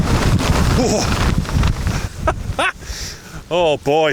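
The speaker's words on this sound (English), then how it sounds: "you can see how fast the wind's blowing" Strong wind gusts roar across a mountain summit on a fell hike, a steady broadband rush with buffeting on the microphone, while someone talks over it and briefly exclaims.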